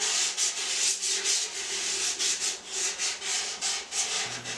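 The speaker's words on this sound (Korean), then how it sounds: "굵은 사포부터 천방 사포까지 사포질을" Sandpaper is rubbed back and forth over a wooden ukulele body, working from coarse to fine grit, in repeated rhythmic scratching strokes at close range, with no voices.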